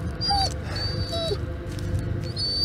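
A dog in the Blair Witch video game gives several short, high whimpers and yips over a low ambient forest background, close and moderately loud.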